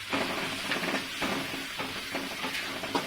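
Tomatoes sautéing in a pan for cauliflower gravy, a steady close sizzle with scattered crackles and soft stirring scrapes, no voices.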